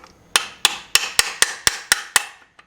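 Eight sharp metallic hammer taps ring out at an even, quick rhythm, close and loud, as engine bearing caps are knocked loose during a home rebuild of a classic car engine, followed by one fainter tap.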